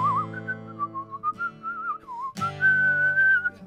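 Someone whistles a melodic, sustained tune along to a song, close and clear, with a steady pitch line and a brief pause before the whistling resumes at a slightly higher pitch.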